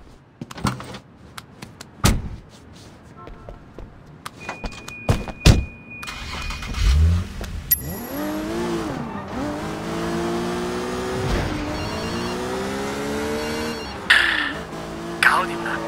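A car in the video game Sleeping Dogs: a door thump and a few knocks, then a close engine revving up through the gears in rising and falling sweeps, with a brief tire squeal near the end.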